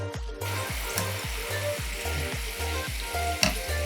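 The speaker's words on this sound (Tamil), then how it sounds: "ஃப்ரை ஆகிற வரைக்கும் வெயிட் பண்ணலாம்." French fries deep fry in hot oil, a dense, steady crackling sizzle up close, with a faint rhythmic low thumping running underneath throughout.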